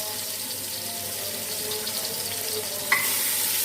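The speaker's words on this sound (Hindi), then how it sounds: "प्याज डाल देते हैं ऑयल में।" Two large-cut onions sizzling and frying in hot oil for a chicken yakhni pulao, a steady close crackling hiss with a brief clatter near the end.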